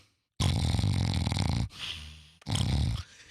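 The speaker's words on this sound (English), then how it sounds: "I got a couple of the snores in there because I only shot like a 9-second video." A person fast asleep snores loudly and close by: two long, rasping, throaty snores separated by a brief quieter breath.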